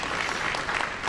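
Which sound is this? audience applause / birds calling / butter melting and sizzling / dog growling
audience applause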